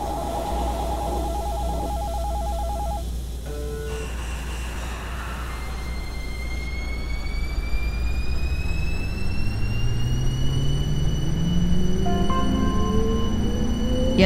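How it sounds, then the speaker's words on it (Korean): A Cool Metro Line 15 express train pulls away, its motor whine rising steadily in pitch as it accelerates, after a short electronic chime. "열차가 곧 출발합니다."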